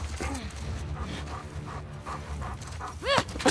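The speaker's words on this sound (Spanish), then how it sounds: "Vale, viene un perro ahora, tío." Dog sounds in The Last of Us Part II during a fight with soldiers, with whimpers and yips that are fairly loud and mixed with game noise, including a sharp rising cry near the end.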